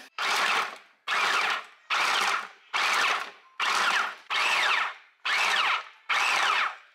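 A kitchen food processor chops small vegetables for homemade soup in eight short, loud whirring pulses of about half a second each, separated by brief silences, close and alone.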